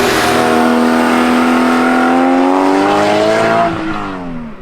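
A mid-engined Porsche Cayman GT4 sports car drives hard, its engine note loud and close with a steady rising whine that climbs through the revs before easing off at the end.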